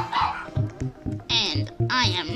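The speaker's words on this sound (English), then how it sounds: "I'm so sorry for the dog, for those dogs in the back." Dogs bark and yip in the background in a rapid series of short bursts, partly masked by a voice talking over them in the foreground.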